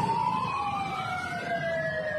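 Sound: fire truck siren

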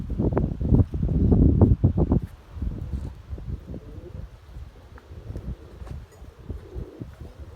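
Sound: strong wind

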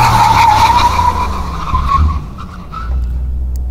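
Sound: AMG car doing a full emergency brake, tires skidding

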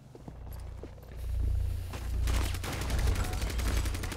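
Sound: gunfire in the video game Rainbow Six Siege

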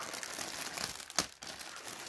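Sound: peeling open plastic packaging of Adidas T-shirt

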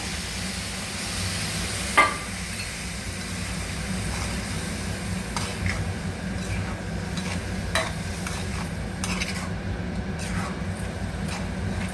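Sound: sour yogurt poured into simmering ivy gourd curry

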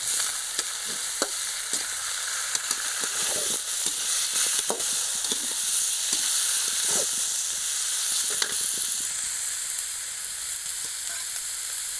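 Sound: country chicken sautéing in a pan with salt

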